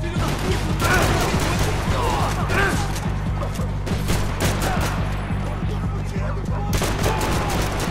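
Rapid bursts of gunfire from the video game Max Payne 3 crackle loud and dense over a constant low rumble of game music, with sharp individual shots standing out throughout.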